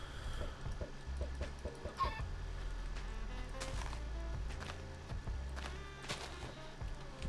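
Chicken clucking in a video game, a run of short, repeated clucks and footstep-like taps over a steady low game background, fairly close and continuous.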